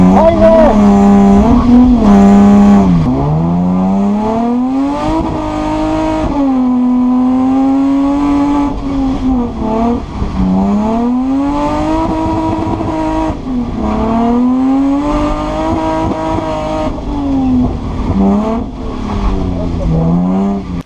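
A Lexus IS 200 practice drift car at a Driftland event, engine revving hard and rising and falling in pitch over and over, with tire squeal as it slides, loud and close throughout.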